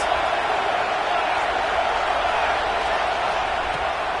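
A packed stadium crowd at a college football game against Alabama roars steadily behind the defense before a big third down, a dense, continuous wall of cheering that holds level throughout.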